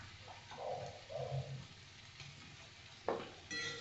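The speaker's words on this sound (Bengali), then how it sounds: "এবার আস্তে আস্তে আমি পেঁয়াজটাকে লাল করে ভেজে নেব।" Onions being fried in oil until reddish-brown, a soft sizzle under intermittent stirring scrapes and a sharp utensil knock near the end.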